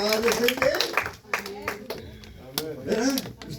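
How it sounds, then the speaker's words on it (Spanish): A church congregation claps in a burst of applause while a preacher keeps speaking loudly over the sharp, rapid hand claps. "Un aplauso más fuerte."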